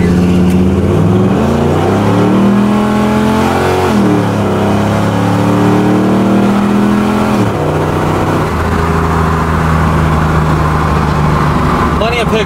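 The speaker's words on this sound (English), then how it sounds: "But the car picks up, it'll get up and go. It's a, you know, a great muscle car." A 1979 Pontiac Trans Am muscle car accelerates hard, its engine note climbing through several gear shifts in a loud, continuous roar heard from inside the car.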